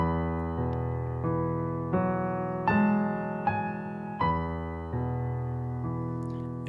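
Soft, close piano chords from the left hand of Einaudi's Burning change in a slow, even pulse, about eight struck chords each left ringing, quiet and unaccompanied.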